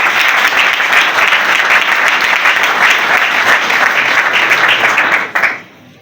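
Loud, dense applause fills a hall at a political party congress closing as a provincial delegation stands, a steady wash of many hands that cuts off abruptly near the end.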